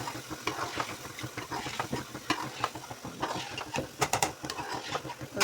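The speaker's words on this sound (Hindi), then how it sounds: "ये देखो जी इसको भून रही हूँ।" Fish pieces and tomato masala fry and sizzle in a pan while being stirred for a fish curry, with continuous crackling and irregular scraping and clinking close by.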